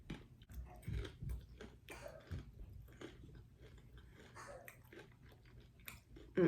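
Quiet, close chewing and crunching of food coated in Bloveslife Smackalicious sauce, irregular soft bites with faint breaths and no talking.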